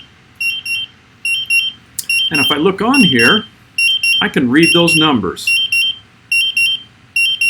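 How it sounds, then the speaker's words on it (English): A confined space gas meter sounds rapid, high electronic beeps in repeating bursts during a bump test, loud and close, continuing under someone talking. "And I definitely have some alarms going off."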